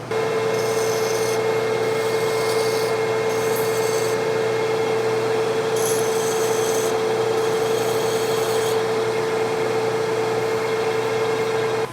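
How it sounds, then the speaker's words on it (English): A hand file rasps in short bursts of strokes across the sharp edges of a metal skid steer part, set against a loud, steady machine hum that runs throughout. "I'll go ahead and just hit the sharp edges with the file"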